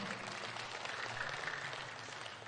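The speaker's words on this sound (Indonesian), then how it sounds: "Tepuk tangan buat kita semua" Audience applause at a talk on transdermal patch drug delivery: a steady, dense wash of clapping that holds evenly throughout and stays fairly soft.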